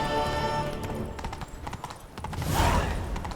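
Roach, a horse in The Witcher 3, trots with quick, steady hoof clip-clops close by, ending in a swell of louder movement and a short neigh-like whinny.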